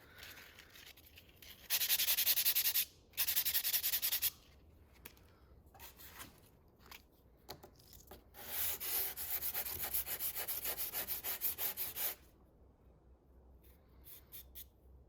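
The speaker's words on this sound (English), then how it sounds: "I'll come back and I'll show you it being sanded" Sandpaper of 220 grit rubs across yellow foam during wet sanding. Close, raspy strokes come in short bursts, then a longer run of rapid back-and-forth scrubbing follows, with quiet handling between passes.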